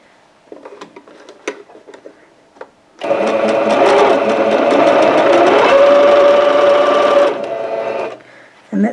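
A sewing machine stitches jelly roll fabric strips into a scarf, starting with light handling taps, then a loud, steady close hum for about four seconds before slowing and stopping.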